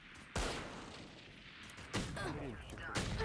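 Gunshots in the video game Valorant during a competitive match, three loud sharp reports spaced across the moment, each trailing into a reverberant tail, with voices talking in between.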